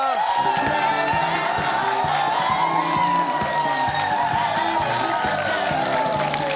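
A television studio audience claps and cheers continuously to welcome a singer onto a KBS talk show, with a steady tonal backing underneath the applause.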